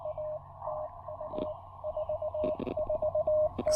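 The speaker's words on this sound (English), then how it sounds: "Sorry, all this noise from my phone." Repeated electronic phone tones beep in short bursts over a steady ham radio receiver hiss during a low-power outdoor park activation, the tones chopping in and out irregularly and fairly loud.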